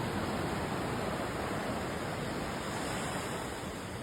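Sea waves wash steadily onto a beach in the Andaman Islands, a continuous broad roar of surf with light wind, no break and no talk.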